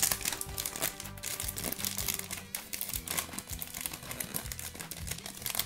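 Pokémon card box packaging is pried open, a busy run of crinkling cardboard and plastic with clicks and tearing, fairly close and quiet, with no talking.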